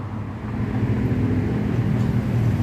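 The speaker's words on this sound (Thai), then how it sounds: "ขณะนี้นะรถก็ออกจากสถานีสามเสนมาแล้วนะก็ได้ยินเสียงเร่งเครื่อง" Hitachi diesel engine of the Thaksinarat special express train, Krung Thep to Hat Yai, accelerating away from Sam Sen station, a steady loud low rumble with a droning hum throughout.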